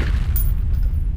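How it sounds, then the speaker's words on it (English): Deep booming grenade blast in a Fear combat video game match, a single heavy low rumble that sustains through the clip, loud and close. "Grenade out!"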